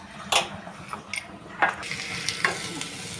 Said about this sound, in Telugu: ఒక 5 to 6 టేబుల్ స్పూన్స్ దాకా ఆయిల్, ఆవాలు జీలకర్ర వేసుకుందామండి.